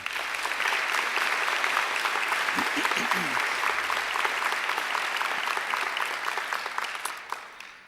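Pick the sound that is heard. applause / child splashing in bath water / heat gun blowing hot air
applause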